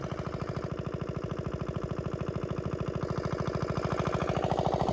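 An engine runs at low revs, throttle eased off, with a steady, close chugging thump of rapid, evenly spaced beats that barely changes in pace, with no voices.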